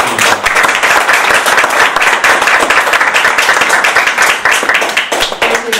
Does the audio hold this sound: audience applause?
yes